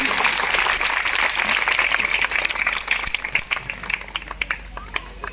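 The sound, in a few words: audience applause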